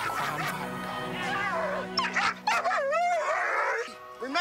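A dog whimpering and giving short yips and bow-wow sounds in a few quick, close bursts over about four seconds.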